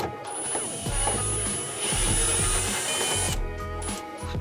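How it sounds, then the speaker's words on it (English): A power drill whines steadily at close range, its motor pitch rising and falling as it bites through metal while a rear strut bar is fitted to a BMW E30. "So let's drill it."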